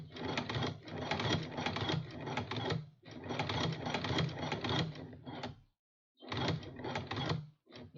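A sewing machine stitches back and forth along a fabric drawstring dice pouch, running in rapid mechanical bursts of a second or two, separated by short pauses and brief silent gaps.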